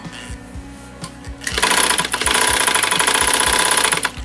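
A Dressmaker model 160 sewing machine whirs into steady, fast stitching on scrap cloth after a few soft clicks, running loud and continuous with a rapid mechanical rhythm.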